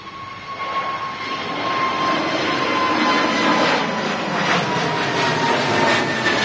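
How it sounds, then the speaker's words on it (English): An SAS Airbus A320neo takes off for Oslo, its engine roar rising and then holding loud and steady, with a thin whine layered over the rumble and no talk. "SAS Neo flying out to Oslo."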